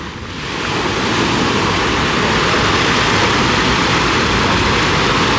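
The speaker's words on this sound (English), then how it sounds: "just listen to the waves crashing and just taking in the atmosphere" Ocean waves roll in on a sunny Dubai beach with a loud, continuous rushing surf. It builds in the first second and then holds a steady roar without pause.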